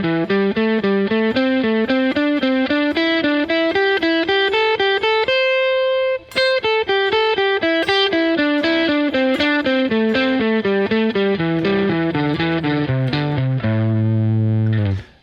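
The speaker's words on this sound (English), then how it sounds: "This is a scalar third exercise." Electric guitar with distortion plays a fast pentatonic scale in thirds, the notes running up and down in an even stream, loud and up close, with a brief pause midway and a held final note.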